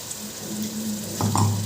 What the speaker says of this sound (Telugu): వేసుకుని బాగా సరే ఫ్రై చేసుకోవాలి